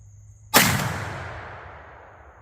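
A single loud gunshot from a firearm loaded with Blackhorn 209 black powder substitute cracks out nearby, then rolls away in a long fading boom and echo.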